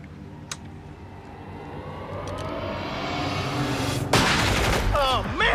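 Gunfire in a dramatic television action scene: a rising, roaring barrage of shots swells to a loud burst near the end, layered with background noise, and a brief vocal sound appears at the very end.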